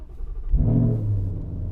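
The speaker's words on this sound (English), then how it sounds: "we'll give you a cold start. This is going to be in quiet start because I do have it programmed. So let's go ahead and start up the car." A 2019 Mustang GT with a Corsa active exhaust in quiet mode cold-starting: a short starter crank, then a low, muffled engine rumble that settles into a steady idle, heard close.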